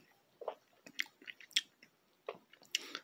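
Soft Vienna sausage in chicken broth being chewed close to the mic, with quiet, irregular wet squishes and small bites over about three seconds.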